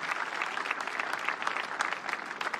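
A church congregation claps steadily and briskly for a few seconds. The applause is moderately loud and sustained, with no talk heard over it.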